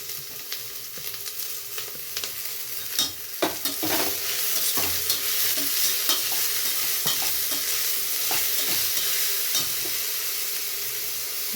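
Fenugreek leaves sizzle loudly in a pan as they are stirred, with a constant hiss of frying and repeated scraping strokes of the spoon, close and steady throughout.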